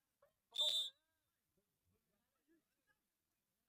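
A referee's whistle at a 7-a-side football tournament match gives one short, sharp blast, loud and close, followed by near silence with only faint scattered sounds.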